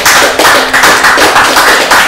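An audience at a talk event on the film "Janji" claps in a steady, rhythmic beat, loud and close, with the sharp hand strikes falling evenly for a couple of seconds.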